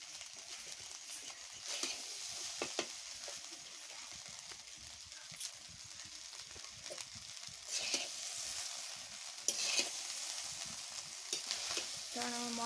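Food frying in a pan with a little extra ghee added, a steady broadband sizzle punctuated by repeated scraping and clacking strokes of a spatula stirring, close and continuous with no talk.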